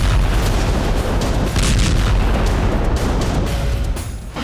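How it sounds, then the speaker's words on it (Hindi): Dense, loud booming blasts in Odesa, Ukraine, during the war with Russia, overlapping in a continuous roar like nearby explosions or heavy fire, with no pauses between them. "इधर यूक्रेन के ओडेसा में धमाके हो रहे थे।"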